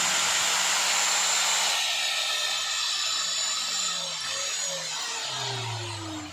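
A repaired Makita 9553NB angle grinder with a replaced burnt armature runs on a direct supply, giving a steady high motor whine that winds down slightly as its pitch drifts lower.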